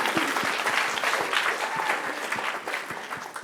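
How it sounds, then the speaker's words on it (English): Audience claps warmly for a student panel at a university discussion event, a dense steady patter of hands that fades slightly toward the end. "give them an applause"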